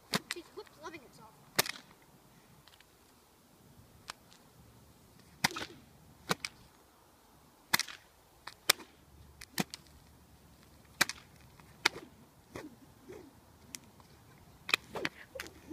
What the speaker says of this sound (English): every time I crack the whip